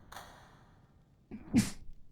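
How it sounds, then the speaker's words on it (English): A single close sneeze, a quick intake of breath then a sharp burst, preceded by a short faint noise in a quiet room. "I had to sneeze"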